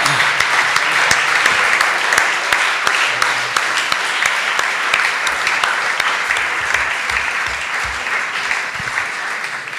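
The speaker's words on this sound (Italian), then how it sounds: "Direi di concludere con un grande applauso e un grande ringraziamento." Loud, sustained applause from a lecture audience at the close of an architecture talk in a palazzo, dense steady clapping filling the whole stretch with no break.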